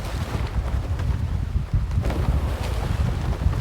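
A sailboat's sail flapping in the video game Trailmakers, a rough, continuous fluttering rush like wind buffeting cloth, loud and close with low rumbling gusts and no voices.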